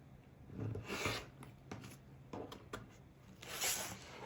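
A rotary cutter slices through a quilted fabric block held against a straight ruler, making soft rasping strokes up close that start and stop at a quiet level.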